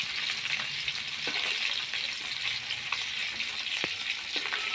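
Tengra fish frying in oil in a pan, a steady, moderately quiet sizzle with occasional soft clicks and pops from turning the pieces.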